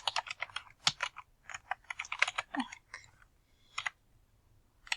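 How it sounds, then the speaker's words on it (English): Quick, irregular clicking of a computer keyboard being typed on, close and fairly quiet, coming in uneven bursts with short pauses between runs of keystrokes. "Can't type on this keyboard."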